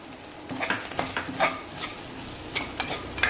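Cashew pieces roasting with spices and ginger in a pan for a palak paneer samosa filling. A steady sizzle runs throughout, broken by repeated scraping strokes of a spoon stirring against the pan.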